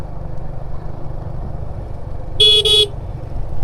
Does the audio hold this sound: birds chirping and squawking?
no